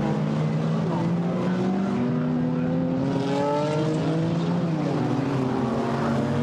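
GT4 race cars at the Brands Hatch circuit roar past around Paddock corner, loud engines rising and falling in pitch as they go by, with commentary over them.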